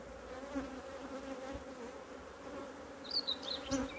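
Honeybees swarming around an opened beehive during a hive inspection, a dense continuous buzzing drone close by, with a few brief higher-pitched whines from individual bees passing near.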